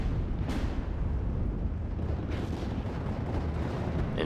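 Mortar rounds burst in Steel Division: Normandy 44, a rumbling barrage of deep booms with two sharper blasts standing out over continuous low battlefield noise.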